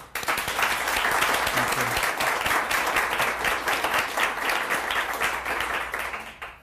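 A studio audience gives sustained, loud applause to welcome an author guest, dense clapping starting abruptly and holding steady for several seconds before tapering off.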